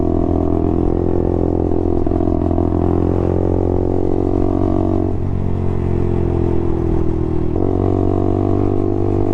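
A big motorcycle engine drones loud and steady as it passes close by, its pitch shifting and dipping as the rider changes revs.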